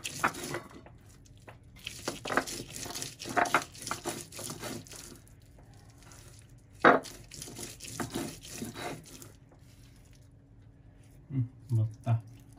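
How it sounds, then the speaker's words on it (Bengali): A knife finely chops garlic on a board while cooking, giving a string of quick, crisp taps and scrapes at close range, with a few heavier knocks toward the end. "রসুনটা কুচি কুচি করে দিছি"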